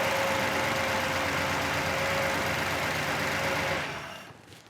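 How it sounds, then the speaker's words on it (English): A 1964 Pontiac GTO with a tri-power V8 runs at a steady idle, a loud, close, even rumble with a faint whine that holds for several seconds before cutting off and fading out. "we'll let you listen to the engine"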